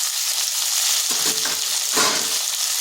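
Broad beans fry on high heat in a pan, giving a continuous loud sizzle with bursts of crackling and stirring scrapes near the middle.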